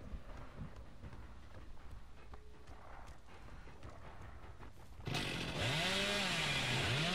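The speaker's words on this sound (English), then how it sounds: "Better get out of here before I fucking use my chainsaw." A chainsaw in the video game Dead by Daylight kicks in after quieter footsteps and ambience, a loud, close, wavering buzzing roar whose pitch rises and falls as it revs.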